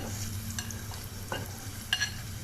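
Chopped onions frying in hot oil, a steady sizzle with a few scraping stirs and clinks of a utensil against the pan.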